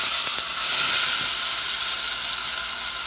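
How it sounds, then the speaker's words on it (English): Tomato sauce hits a hot pot for fideo and sizzles loudly in a continuous bright hiss with a few faint clinks near the start, close up and with no talking. "We're going to add the tomato sauce,"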